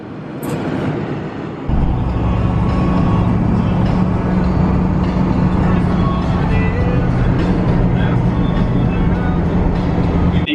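A Ford Powerstroke 6.0 diesel truck cruising on a highway with mountains around, steady loud cabin drone of engine and road noise throughout, a low hum continuing evenly with no speech over it.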